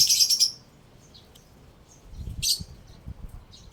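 Short bright pigeon chirps at the start and again midway, with soft rustling and low handling noise between them, in a racing pigeon loft.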